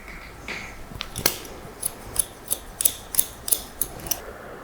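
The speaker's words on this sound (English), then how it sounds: "So I want to cut in a fringe." Scissors cutting hair to shape a textured wispy fringe, with a steady run of about ten crisp metallic snips spaced roughly a third of a second apart, close and clear, with no talking.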